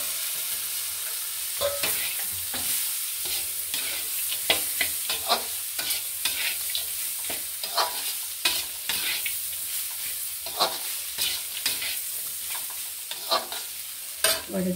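Figs, potatoes and peanuts stir-fry in spiced masala for a moong dal fig curry, with a steady sizzle broken by frequent, close scrapes and clatters of a spatula in the pan.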